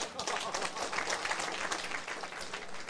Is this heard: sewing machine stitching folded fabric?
no